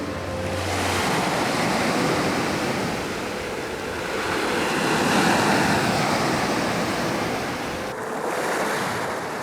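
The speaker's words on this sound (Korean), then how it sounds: "한적한 몽돌 해변," Black Sea surf washing onto a quiet pebble beach in Georgia, a steady, full roar of breaking waves that swells and eases, with wind across the microphone and no voices.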